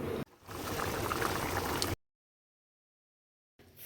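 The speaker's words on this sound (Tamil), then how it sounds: "நல்லா மூடி போட்டு கொதிக்க வச்சுருங்க" A steady bubbling simmer of tamarind curry with turkey berries in a covered pot, continuous for about two seconds, then cutting to silence before a brief return.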